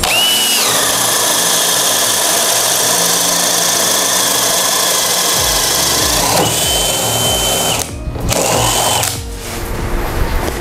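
A DeWalt DCD9991NT 20V drill driver whirs loudly and steadily, with a high motor whine that shifts in speed partway through, cuts off briefly, then spins up again, with no talking.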